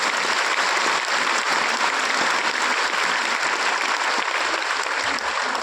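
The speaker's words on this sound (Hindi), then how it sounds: "तो एक बहुत बड़ी ताली होनी चाहिए आप सभी लीडर्स के लिए" A packed hall audience at a network marketing training session breaks into loud, sustained applause for its leaders, a steady dense roar of clapping throughout with no voices over it.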